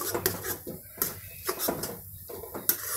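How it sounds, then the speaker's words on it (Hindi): A spoon scraping and knocking against a pan while a besan mixture is stirred round and round for dry gram-flour sabzi, giving irregular clinks and scrapes close by, with a steady low hum underneath. "इस तरीके से राउंड शेप में हमें इसको हिलाना है और अच्छे से हिलाते रहना है"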